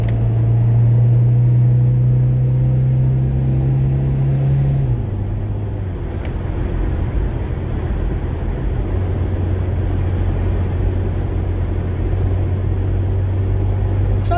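An Austin Ambassador car drives along an A road, a steady loud engine drone and road rumble from inside the cabin, dropping in pitch partway through as it changes gear, with no talk.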